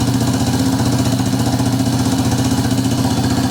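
A Yamaha Warrior 350 ATV engine idles after a carburetor swap, giving a steady, loud, close-up rhythmic putter with no talking.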